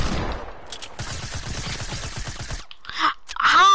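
Hand cannon and shotgun fire in a video game battle, a dense run of rapid gunshots followed by a pause and a couple of louder blasts with game effects at the end.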